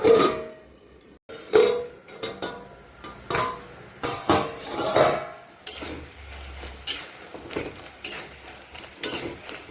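A lid goes onto a pan of frying pui shaak greens with a few close metallic clanks and scrapes, while a soft sizzle and stirring noises run between the knocks.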